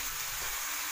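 Pork chops sauté in a hot pan with a steady, close, hissing sizzle that stays even throughout, with no talking.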